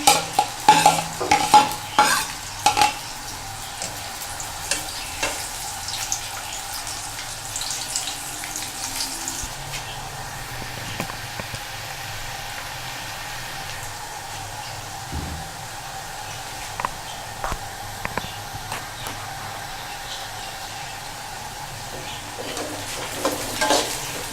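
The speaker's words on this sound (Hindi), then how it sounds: "1 पाव कुकिंग ऑयल में हम सबसे पहले प्याज ब्राउन होने के लिए डाल देंगे।" Onions browning in about a quarter kilo of cooking oil for Bombay biryani crackle under a steady frying hiss, with clattering stirs in the first few seconds and occasional knocks later.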